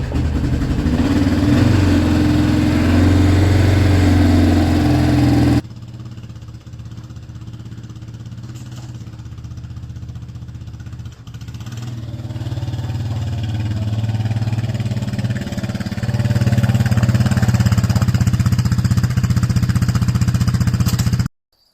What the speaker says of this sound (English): Quad hasn't run for a while. Let's see if it'll go.